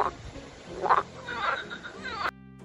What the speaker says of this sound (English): F for frog.